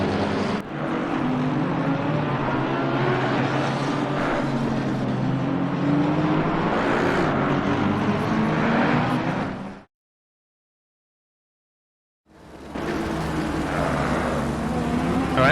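Racing car engines from the Assetto Corsa Competizione sim racing game drone loudly and continuously during a GT endurance race at Barcelona. They cut out into brief silence, then resume at a steady roar.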